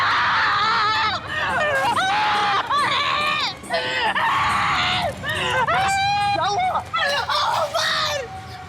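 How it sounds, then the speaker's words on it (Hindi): Several people scream and shout in a tense scene from a horror drama, high frantic cries rising and falling over steady crowd babble and a noisy background. "क्यों चिल्ला रहे हो?"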